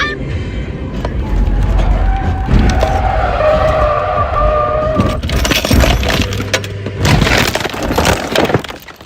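A car skids loudly and crashes close by, the tire screech and impact followed by bursts of breaking glass and debris, with a voice heard briefly amid the noise.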